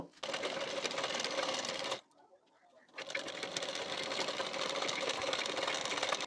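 A sewing machine runs stitching a blouse sleeve, with two sustained bursts of rapid, loud, close stitching separated by a brief pause of near silence.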